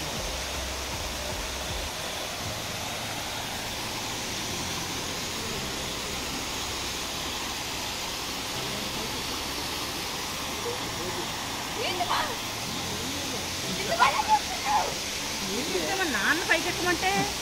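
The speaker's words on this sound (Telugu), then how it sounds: "దారిలో స్వామివారిదే ఒక జలపాతం ఉందన్నమాట" A waterfall beside the road to a temple at Tirumala at night sends out a steady, hissing roar that stays even throughout, with faint voices rising briefly toward the end.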